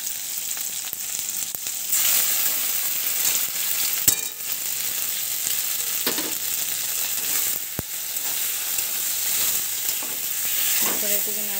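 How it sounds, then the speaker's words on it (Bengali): Spice paste frying in hot oil for pigeon curry while being stirred, a loud close sizzle with scraping strokes and a few sharp knocks against the pan. "তারপরে এটিকে নাড়াচাড়া করে ভালো করে ভেজে নিতে হবে"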